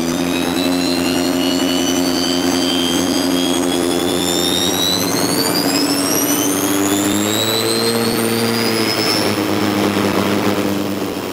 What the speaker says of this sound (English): built a brand new sports racing car, which features an onboard helicopter gas turbine to counteract turbo lag